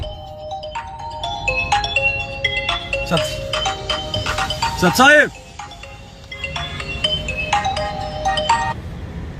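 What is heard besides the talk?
phone ringtone, incoming call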